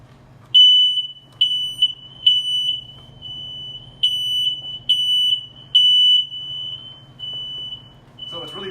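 A home smoke alarm above a staircase beeps in a steady repeating pattern of loud high-pitched tones, with quieter echoing beeps between them from a synced alarm upstairs and a low background hum.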